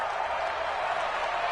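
Dense, steady roar of a football stadium crowd cheering at a Chargers vs Raiders game ahead of a big third down, loud and continuous with no breaks, with a commentator's voice running beneath the noise.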